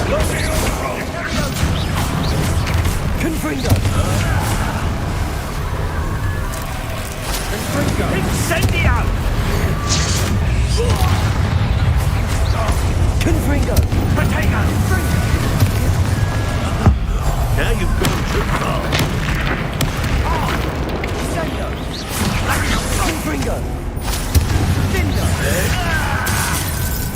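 Repeated Confringo fire spell blasts in the Hogwarts Legacy wizarding game, a dense run of booming, crashing impacts over a steady rumbling game mix, with speech mixed in throughout.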